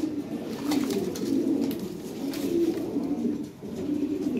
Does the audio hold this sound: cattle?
no